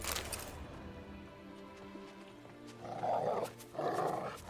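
A dog in The Witcher 3: Wild Hunt gives two loud, rough barks or growls close by, following a stretch of low game ambience and faint background sounds.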